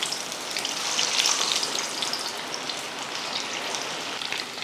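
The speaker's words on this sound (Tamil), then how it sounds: "கொஞ்சம் நிறைய எண்ணெய் ஊற்றி மீன் பொரிக்கலான்னு தான் நிறையா ஊற்றி இருக்கேன்" Fish frying in a generous amount of hot oil, a steady, dense crackling sizzle that holds at an even level throughout with no voices.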